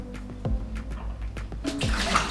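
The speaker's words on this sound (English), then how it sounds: "I like to wash as I cook" Tap water running into a kitchen sink while dishes are washed, a steady close splashing stream with a few clatters of plates and a louder gush near the end.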